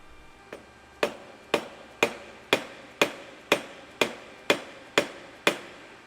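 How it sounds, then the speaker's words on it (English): Loud metallic hammer strikes drive a direct-mount stem down on a Surron X electric motorbike at a steady, even rhythm, about two per second, each ringing briefly before the next blow, with no talking. "I'm just hammering that down"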